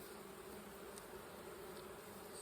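A dense, continuous buzz from a swarm of bees around hive boxes fills the whole stretch. It is close and steady, with no voices.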